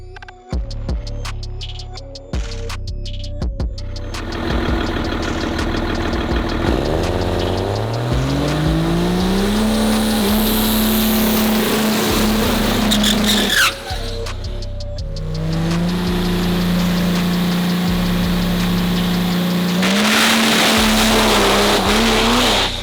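A pro mod race truck makes a full drag pass during a test session, its engine roaring loud and close with repeated rising pitch sweeps through the gears, a brief lift around the midpoint, and tire squeal, with no talk.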